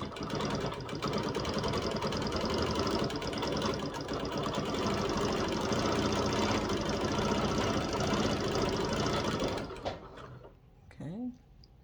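A sewing machine stitches a quilt design marked with pounce powder, running in a steady fast mechanical hum for about ten seconds before stopping, with a voice heard briefly afterward.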